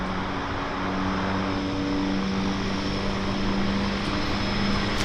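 A floatplane taking off from Vancouver Harbour and flying out through a clearing, its propeller engine droning steadily and fairly loud throughout with a constant hum and no voices.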